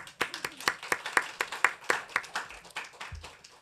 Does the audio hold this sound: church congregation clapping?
yes